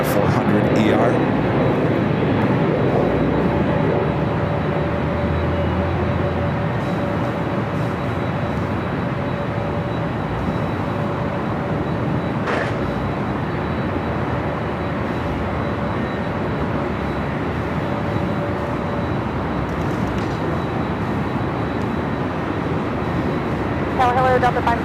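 Delta Boeing 767-400ER airliner at LAX, a broad, steady distant jet roar rolling across the airfield for the whole stretch, with background noise and faint radio-style chatter.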